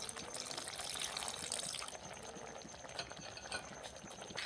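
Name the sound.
water being added to Bengali okra curry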